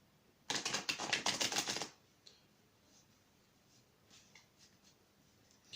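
Tarot cards are shuffled in a quick rapid burst of crisp riffling clicks lasting over a second, close and clear, followed by faint scattered taps in a quiet room.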